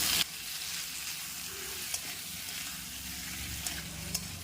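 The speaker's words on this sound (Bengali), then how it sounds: "আদা রসুন বাটাটা দিয়ে আরও কিন্তু দু এক মিনিট ধরে খুব ভালোভাবে কষে নেব" Ginger-garlic paste sizzles steadily in a hot pan with vegetables, a continuous close frying hiss broken by a few faint clicks of stirring, with no voices.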